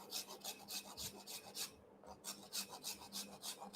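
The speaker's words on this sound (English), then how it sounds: "scraping it at an angle so we can have the neighboring panels stick to each other" A slab of gingerbread cookie dough has its edge scraped at an angle, giving steady rhythmic rasping strokes, close and clear, with a short pause midway and no talking.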